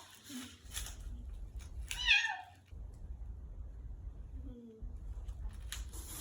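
A cat gives a clear, drawn-out meow near the middle, with a couple of softer, shorter mews around it over a low background rumble in a household setting.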